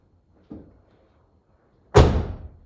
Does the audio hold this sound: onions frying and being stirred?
no